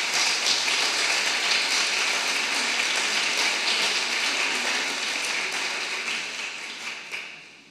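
Steady, dense applause of welcome for three women at a tribute to Ana María Matute at the Biblioteca Nacional. It holds even and full throughout, then thins and fades over the last second.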